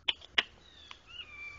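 A cat cries out with a thin, drawn-out meow near the end, after two sharp taps, all faint against a quiet room.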